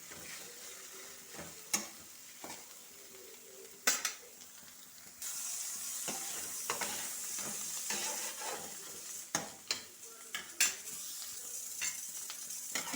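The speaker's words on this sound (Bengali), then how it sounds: "ডিমটা ভাজা হয়ে গেছে" An egg fries in a home kitchen pan, with a soft sizzle under scattered spatula scrapes and sharp clicks of utensils, then a louder, brighter hiss picks up partway through. Nobody speaks.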